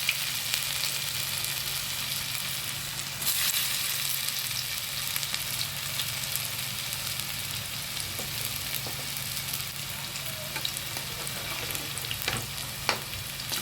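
Alu vadi, colocasia leaf rolls, fry in a pan with a steady close sizzle throughout, with a few faint scrapes and clicks of stirring.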